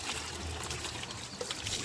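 Cold water from a natural mountain spring flows steadily in a hill village, a continuous close rush and trickle with no voices.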